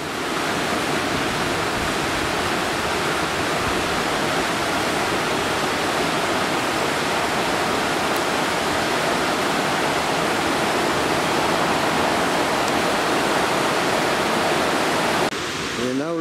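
The River Ogmore rushes steadily in a loud, close, broadband roar of flowing water that holds unbroken throughout, with a brief disturbance right at the end.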